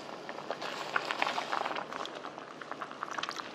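Doenjang soup with shepherd's purse bubbling in a pot, a dense, continuous simmering crackle with small pops, moderately close and steady, no talking.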